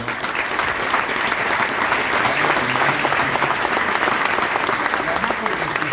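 Loud, dense applause from a large audience at a political congress, steady clapping filling the whole stretch without pause.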